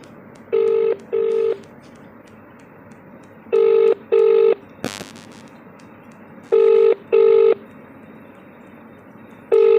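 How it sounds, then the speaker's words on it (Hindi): Ringback tone on an outgoing phone call, heard as three pairs of double beeps spaced a few seconds apart. Steady faint line hiss fills the gaps, with one brief click in between. "देखिए घंटी हो रही है"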